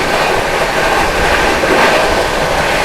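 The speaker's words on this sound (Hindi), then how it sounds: "यहाँ पर हम लोग ओवरटेक करेंगे 54 प्रयागराज एक्सप्रेस को" The 12487 Jogbani–Anand Vihar Seemanchal Express roars at speed while overtaking the Prayagraj Express, a loud, steady rush of wheels and rattling carriages heard from on board, with faint rhythmic clatter throughout.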